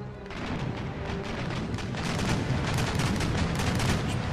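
Mortars fire from a bomb ketch during a naval battle in Empire: Total War. Dense, overlapping booms and rumbling blasts come close and loud, one after another, with no break.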